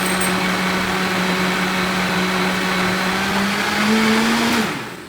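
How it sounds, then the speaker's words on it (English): A blender runs steadily on a green smoothie, a loud continuous motor whine that rises slightly in pitch near the end before spinning down. "you can blend this up as smooth as you want"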